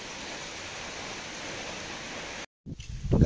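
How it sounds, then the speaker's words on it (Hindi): Heavy rain pours steadily as a dense, continuous hiss, broken by a brief drop-out before louder, closer splashing and rumbling noise returns. "वो देखो कितना जोर से बारिश हो रहा है"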